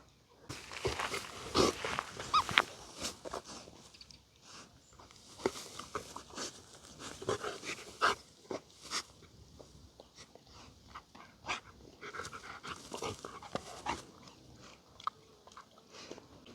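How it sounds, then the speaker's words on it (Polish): A dog panting in irregular bursts close by, with wet chewing and mouthing sounds mixed in, loud at moments and quieter in between. "Arciu, lepiej by ci się oddychało bez piłki."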